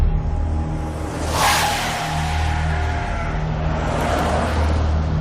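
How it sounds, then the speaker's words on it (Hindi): A road vehicle roars steadily as it speeds up along the road, its engine loud and close throughout, with a whooshing surge partway through and no talk. "गाड़ी की स्पीड बढ़ाकर आगे निकल गया।"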